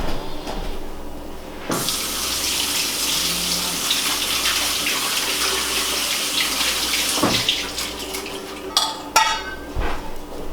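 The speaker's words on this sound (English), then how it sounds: "These just need a very light rinsing through a colander." Fresh strawberries are rinsed in a colander beneath a running kitchen sink tap, a constant close rush of water with a few light clinks and knocks toward the end.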